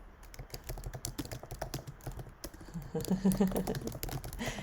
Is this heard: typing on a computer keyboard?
yes